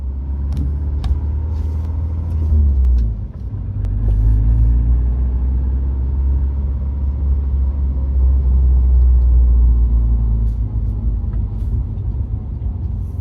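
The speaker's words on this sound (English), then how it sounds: "now we're gonna drive around the block real careful like and make sure that it feels like a car" A 2004 car with a swapped 2.5TS engine and brand new clutch rumbles steadily at low speed, deep and close, swelling slightly as it moves along with no one talking.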